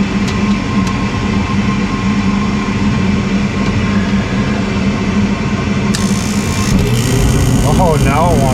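A gas unit heater's burner lights partway through, a sudden broadband whoosh of ignition rising over a steady mechanical hum in a work space, with someone talking under it.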